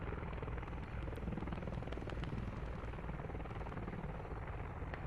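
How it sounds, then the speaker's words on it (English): A helicopter in the video game Squad arrives with a loud, steady rotor and engine roar that fills the whole stretch without a break. "As first helicopter comes, whoa, here we go."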